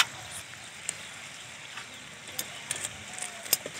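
Gujiya made with biscuit and peanut filling, cooked in a pan of hot oil, gives a faint, steady crackle with scattered sharper pops and spits, quiet and close, with no one talking.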